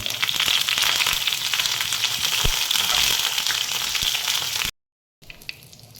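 Cumin seeds and curry leaves sizzle loudly in hot coconut oil, a dense close crackling fry with scattered pops, cutting out briefly near the end before a quieter sizzle resumes.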